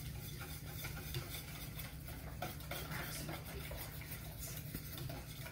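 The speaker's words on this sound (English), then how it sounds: "you will be taking your whisk and mixing the pudding mixture until it is smooth and you've gotten all the clumps out" A whisk stirs pudding mixture in a bowl until smooth and lump-free, giving a steady, continuous scraping and swishing at close range without pause.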